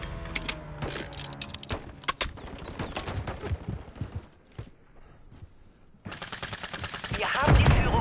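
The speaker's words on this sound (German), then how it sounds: "Lade ein neues Magazin!" Mechanical clicks, clacks and ratcheting of a magazine reload in Call of Duty: Modern Warfare 3, mixed with bursts of gunfire and battle noise; close and loud, with a sharp crash near the end.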